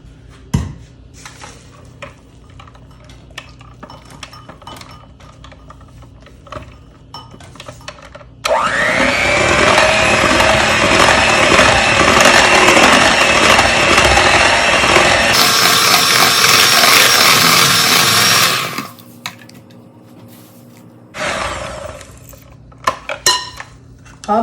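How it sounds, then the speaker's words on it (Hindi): Tiramisu mixture with vanilla extract whipped in a bowl by an electric mixer, a loud continuous buzzing whir running about ten seconds with a pitch change partway, framed by light clinks of utensils before and after. "इसको अब हम करेंगे अच्छे से मिक्स।"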